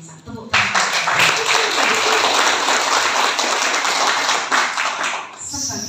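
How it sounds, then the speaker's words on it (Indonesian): A crowd of party cadres at a political education gathering bursts into loud, dense applause that starts abruptly, holds steady for about five seconds, then tapers off. "Tepuk tangan."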